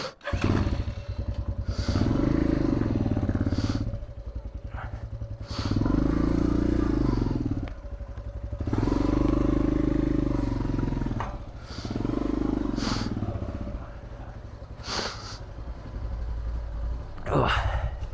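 A Geon X-Road 250 enduro motorcycle ridden through a forest, its engine surging in repeated rising revving bursts with lulls and clattering knocks between them, up close. Someone speaks briefly in between.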